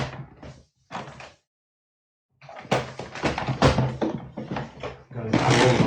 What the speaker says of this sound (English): Going through all my drawers to try to find, aha, a glue stick.